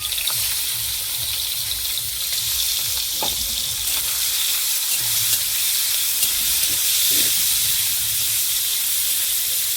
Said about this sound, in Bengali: তেল গরম হয়ে গেছে, চিংড়ি মাছটা তুলে দিচ্ছি।